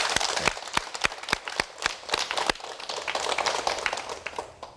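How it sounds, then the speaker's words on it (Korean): A television studio audience claps in applause, a burst of sharp, scattered hand claps that thins into lighter, uneven clapping over a few seconds. "여러분이 동의를 하신다면 제 말씀에 그 박수를 좀 보내주십시오."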